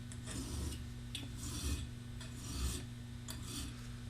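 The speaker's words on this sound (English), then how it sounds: "You can put it on the file, get yourself an established edge" A steel Woodsman broadhead is drawn across a metal file in repeated rasping strokes, about five close, even scrapes in a slow rhythm, quiet and alone.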